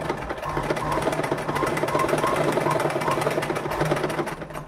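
A sewing machine stitches pieces of an umbrella frock with a steady, fast mechanical chatter, running close and continuously throughout without any talk.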